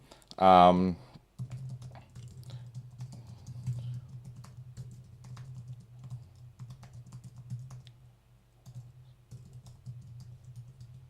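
Fingers tap quickly on a computer keyboard, a soft, close clatter of keystrokes running steadily for several seconds beneath a low background hum, after a brief burst of speech at the start.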